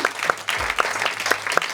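Audience applause at a comedy stage show, moderate and close, with a handful of sharp individual claps standing out from the lighter clapping of a small crowd.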